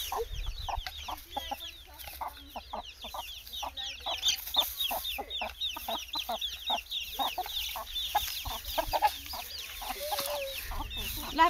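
Chickens cluck continuously in a busy flock, many short overlapping calls near and far, with a faint rooster-like cry now and then.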